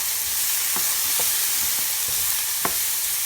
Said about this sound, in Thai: ยายก็จะผัดเห็ดกระเทียมหอมนะคะ แครอทสี่อย่างรวมกันค่ะ